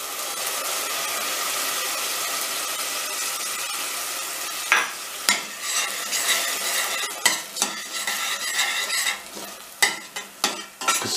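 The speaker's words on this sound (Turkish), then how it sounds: "Salçamız da kendine gelince doğradığımız domatesleri atıyorum." Chopped tomatoes sizzling in a pan with tomato paste for Urfa-style bulgur pilaf: steady frying hiss, then a series of sharp scraping stirs from a spoon against the pan in the second half.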